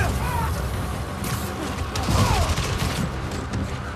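Chaotic combat noise with enemies shooting guns in Spider-Man: Miles Morales, scattered shots, crashes and mechanical clatter mixed together at steady loudness throughout.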